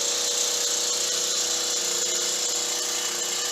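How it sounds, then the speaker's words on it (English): A steady, high-pitched motorized whine drones continuously without pause, like a string trimmer running at a constant pitch nearby. "hear the weed whacker getting closer."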